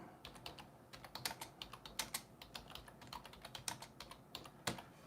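Quick, light taps on a computer keyboard while a post is typed, an uneven run of close, quiet clicks spread across the whole stretch with no talking.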